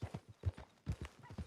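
Horse hooves clip-clopping in the Red Dead Redemption 2 video game, a brisk uneven rhythm of hollow thuds in pairs and triplets, close and fairly soft.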